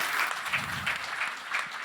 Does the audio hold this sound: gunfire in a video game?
no